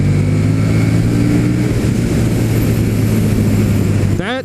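A KTM Super Duke 1290R motorcycle accelerates in fourth gear at partial throttle, its engine a loud, close, continuous roar that eases off near the end with a brief rising whine.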